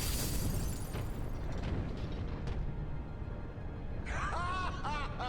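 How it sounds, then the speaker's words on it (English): A rumbling explosion in the video game Dirge of Cerberus fills the scene with a broad, dense boom and crackling debris that fades, followed by a brief tonal game sound near the end. "Now that was an explosion."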